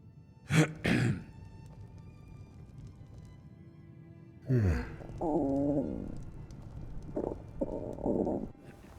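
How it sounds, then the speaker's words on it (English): A Skyrim character's short, raspy thirst cough bursts twice near the start, then later effortful throaty grunts and sighs, close and clear over a quiet background. "Your character will also cough when they're thirsty and yawn when they're tired."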